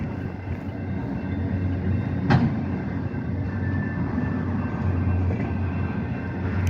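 A train rolls past a railway block, a steady low rumble of rail cars with one brief sharp clank midway, continuous and fairly close with no voices.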